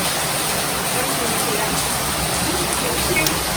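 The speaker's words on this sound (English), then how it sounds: "it's already raining heavily, like very heavy" Heavy rain pouring down in Port Harcourt, a dense, steady roar of water that holds at an even loudness from start to finish with no breaks.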